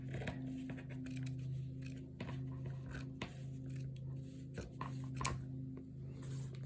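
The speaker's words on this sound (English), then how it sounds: "My fabric scissors here." Fabric scissors trim extra fabric for a squishy junk journal with hand-dyed papers, giving several sharp, separate snips over a steady low hum.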